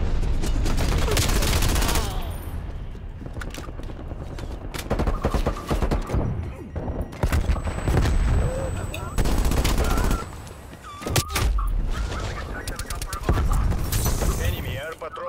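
Heavy automatic gunfire in Call of Duty Black Ops Cold War multiplayer, loud and near, with dense bursts of rapid shots, short pauses and fresh volleys, mixed with game announcer voices and a player talking over the action.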